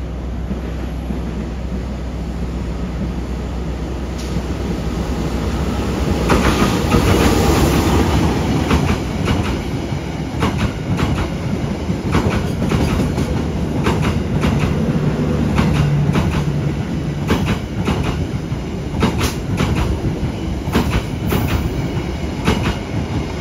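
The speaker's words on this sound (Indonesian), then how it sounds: "Menantikan melintas langsung kereta Jakatingkir." The Jaka Tingkir passenger train passes close by, its wheels rattling over the rails with rhythmic clacks and a sustained loud rumble, with occasional squeal.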